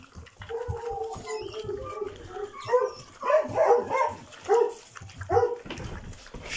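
Hunting dogs bark and whine nearby in a series of repeated, loud, yelping barks, with softer whimpering at the start.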